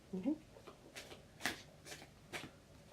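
Oracle cards are shuffled by hand in short, soft riffling bursts spaced through a quiet room, with a voice speaking faintly in the background.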